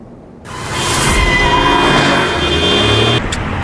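A car in an anime fight scene drives past with a loud engine and road roar that swells after a brief quiet start, steady and close, then drops off sharply near the end.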